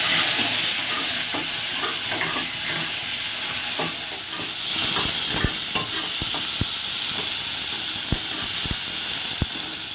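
Mustard seeds, dried chilli and tomato fry in hot oil as a tempering for dal, giving a loud, dense, steady sizzle and hiss. Sharp crackling pops come through it, mostly in the latter half, and no one speaks.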